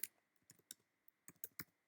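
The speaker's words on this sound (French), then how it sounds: "Ah oui, je suis désolée, c'est mon clavier." Someone types on a computer keyboard in a run of quick, irregular clicks and key taps. The typing sounds close and fairly soft, with a faint steady hum underneath and no talk.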